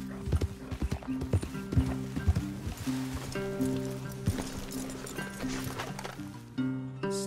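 Horses in the video game Red Dead Redemption 2 clop along on hooves with an occasional whinny, the irregular hoofbeats close and clear over a steady tonal game soundtrack.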